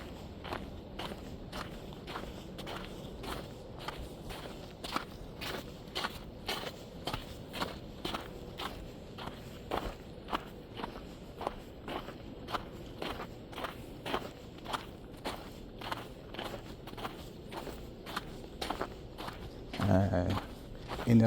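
Footsteps walk steadily across pavement toward a parked car for over twenty seconds, a regular close rhythm of soft scuffing steps with faint clothing rustle and a brief louder shuffle near the end.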